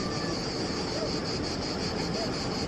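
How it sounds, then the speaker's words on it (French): Cicadas buzzing near a beach at Porto-Vecchio, Corsica, a steady high pulsing drone over broad surf-like background noise, continuous and fairly loud. "on entend les cigales"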